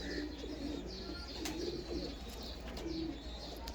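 A black-winged Salara pigeon coos in low, repeated rolling notes, close and clear, with faint chirps in the background and no talking.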